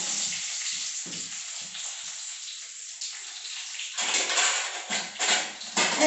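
Sliced onions and curry leaves hit hot oil in a pan and fry with a steady, loud sizzling hiss that swells into bursts of crackling toward the end, with no talking.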